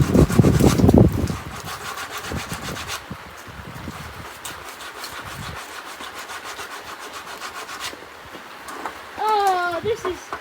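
Sandpaper rubs back and forth across wood in close, rhythmic rasping strokes, heaviest at the start and then lighter and steadier, with a brief squeaky sound near the end.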